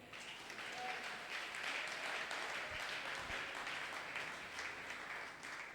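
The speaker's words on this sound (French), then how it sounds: "Dis aussi Amen et acclame très fort." A church congregation at a Sunday worship service applauds, a dense, sustained wash of many hands clapping that holds steady throughout, moderately distant with no talk over it.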